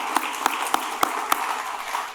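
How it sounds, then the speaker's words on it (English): Scattered claps sound at a downtown business forum, a handful of sharp distinct hits over a soft background murmur rather than full applause. "Round of applause for you all."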